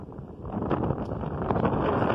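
Strong wind buffets the microphone outdoors during a roller skating session on Mach 1 Magnum skates, a constant loud broadband rumble lasting throughout.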